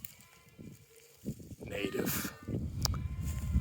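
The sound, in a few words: White Dorper sheep bleating on a farm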